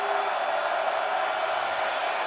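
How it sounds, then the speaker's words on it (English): Broad, sustained roar of the Arizona home crowd making noise at a college football game against Baylor on fourth down, a dense wash of distant voices without distinct cheers or claps. "Arizona crowd making noise"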